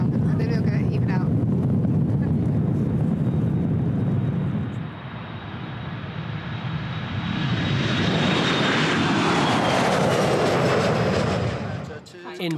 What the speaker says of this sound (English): bracing herself for her very first takeoff